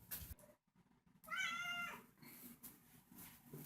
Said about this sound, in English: And they're meowing